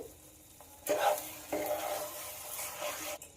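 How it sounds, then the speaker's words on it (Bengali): Sago with sugar, cardamom and salt is stirred briskly in a pan for laddoos: a scraping, rasping stir with a light sizzle begins after a quiet start and continues steadily at close range for about two seconds. "চিনিটা দিয়ে আবারও খুব ভালো করে নাড়তে হবে"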